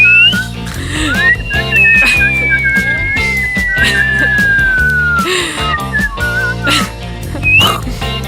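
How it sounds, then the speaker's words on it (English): Someone whistles on the inhale, an inward whistle with a long, thin pitch that slowly slides downward over busy background music and low studio noise, fairly loud and close, with a short rising chirp near the end. "Can you do the inward whistle? Inhale whistle?"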